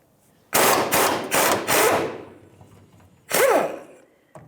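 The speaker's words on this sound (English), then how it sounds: "I'm going to use a 19 millimeter socket or a 3/4 inch socket, whatever fits on for you, and get my 1/2 inch gun up there" A half-inch pneumatic impact gun with a 19 mm socket on a rear shock bolt of a 1992-1996 Ford F-150: four quick loud rattling bursts, a pause, then one more burst, close up.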